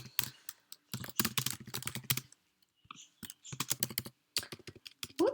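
Bursts of fast typing on a computer keyboard, close and crisp, with quick clattering runs of keystrokes broken by short pauses and a brief quiet gap midway.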